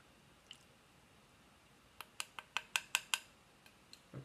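A solution being mixed in a clean cup during a lab protein assay, a quick run of about seven sharp tapping clicks close by, preceded by one isolated tap and followed by a couple more.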